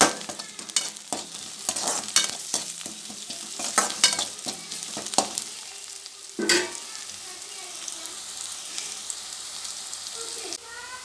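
Onion is sautéed in a pan with crushed ginger and garlic, giving a steady close sizzle broken by repeated sharp scraping stirs and clatters of a spoon against the pan.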